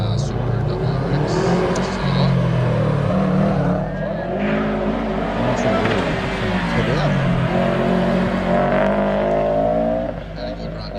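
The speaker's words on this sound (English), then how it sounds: "making his way around the hairpin in the Subaru WRX" A Subaru WRX rally car grinds around a hillclimb hairpin, its engine loud and close, droning and shifting pitch as it holds revs through the bend before easing off near the end, with a commentator talking over it.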